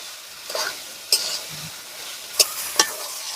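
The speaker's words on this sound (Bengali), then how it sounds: "এবারে আমি ভেজে রাখা আলুগুলো দিয়ে দিচ্ছি। আলুগুলো দিয়ে ভালো করে নেড়ে নেব।" Fried potatoes being stirred into cooked, spiced chicken in a pan, with a constant sizzle broken by a few sharp metallic scrapes and clinks of the spoon against the pan.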